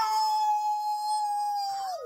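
People voice an imitation of a wolf howl: one long, sustained, fairly quiet howl that holds a steady pitch and then slides down at the end.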